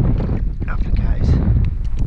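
Wind blowing over a fishing boat out on the water, steady low rumbling buffeting against the microphone, close and constant through the short stretch.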